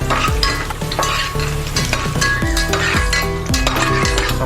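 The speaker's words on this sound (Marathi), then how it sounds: "फ्राय करून घ्यायचं मस्त तुपामध्ये तुपामध्ये मस्त फ्राय करून घ्यायचं" Whole spices frying in hot ghee for prawn biryani, a steady close sizzle with stirring scrapes, partly masked by loud tonal background music throughout.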